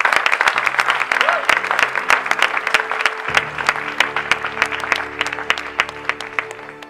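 A church congregation bursts into sustained applause to acclaim the Lord, dense rhythmic clapping from many hands filling the room, with cheering voices and music swelling beneath it partway through.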